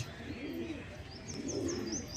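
Pigeons, Kalanka show birds, coo softly with a few light chirps, fairly faint and close, repeating in short calls over a low background murmur.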